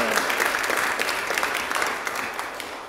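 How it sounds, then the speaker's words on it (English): A church congregation claps in brief applause during a service, a dense patter of many hands that stays steady, then begins to thin toward the end. "this is appropriate to give just a little bit of a round of applause"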